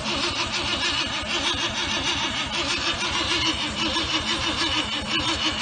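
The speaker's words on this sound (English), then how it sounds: "as soon as you put it on the battery, it starts cranking" Classic Ford engine cranking continuously on a stuck-open starter solenoid, a loud steady rhythmic churn that keeps going without catching, heard close with no talk.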